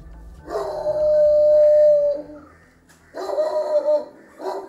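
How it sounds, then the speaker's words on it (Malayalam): Foreign-breed dogs, including a pitbull, at a dog breeding centre: one loud, drawn-out howl, then a pause and a second bout of choppy yelping howls, close by with no talk. "പാകിസ്ഥാൻ പുള്ളിക്കുത്ത പിറ്റ്ബുൾ ഉൾപ്പെടെ ആറോളം വിദേശ നായകൾ"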